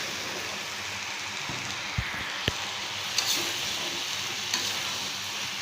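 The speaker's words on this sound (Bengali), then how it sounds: "এখন আমি জিরেটাও দিয়ে দিলাম, জিরা বাটা, এবং এখন দিয়ে দেবো আমি এখানে লাউ" Bottle gourd tipped into hot oil with garlic and ground cumin paste, giving a steady close sizzle and crackle, with a couple of sharp clicks of a spoon against the pan.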